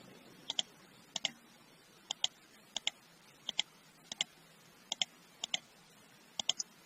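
A computer mouse clicks in quick double taps, about ten pairs at an even pace, close and crisp against a quiet background while items are deleted in Microsoft Word.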